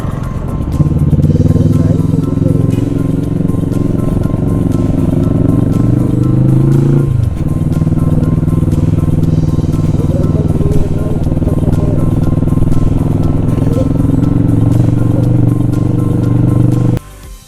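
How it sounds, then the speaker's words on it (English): Motorcycle carrying a rider and pillion passenger, ridden slowly at about 20–25 km/h on a hilly road in Ladakh between Leh and Hunder; a steady close engine drone with a brief dip and shift midway, continuing loud to the end. "here I've had to slow down to about 20-25 kilometers per hour, especially with I have my son Suhas riding pillion with me"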